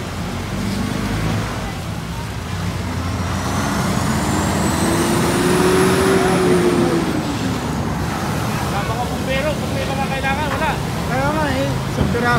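A lone fire truck idles and rumbles at a furniture fire in Sto Tomas, Batangas, a steady loud engine drone with a rising and falling siren-like tone midway and voices talking over it.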